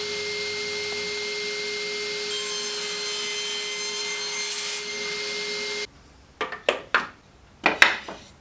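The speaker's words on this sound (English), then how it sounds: "I'll just be using a piece of 2x4 and I'll just cut it down to size." Handsaw cutting a piece of 2x4 wood to size, heard as a series of close, sharp rasping strokes in an uneven rhythm after a stretch of quiet hum.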